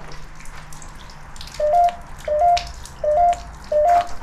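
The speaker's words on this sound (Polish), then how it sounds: "słyszymy kapiącą wodę z dachu" Water drips from a roof in slow, evenly spaced drops, four clear plinks about three quarters of a second apart, fairly close in a quiet interior with a low background hum.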